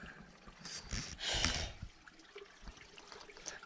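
Water runs in several streams beneath the hollow of a giant, centuries-old tree in the forest. The trickling is steady and fairly faint, with a louder gush briefly swelling in the middle.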